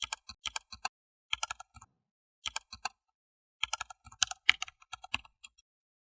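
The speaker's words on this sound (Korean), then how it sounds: "그분이 가르쳐주신 아이디 비밀번호를 입력해 보았는데요" Quiet, close computer keyboard keystrokes come in short clustered bursts with brief pauses between them as an ID and password are entered.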